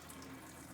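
Water runs from a Synergy ECHO H2 vented hydrogen faucet, a soft, steady stream heard alone and fairly faint.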